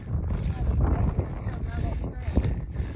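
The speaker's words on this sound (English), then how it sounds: "Breezy here, huh?" Gusty wind buffets the microphone near a mountain summit, a close rumbling rush that swells and eases under scattered talking.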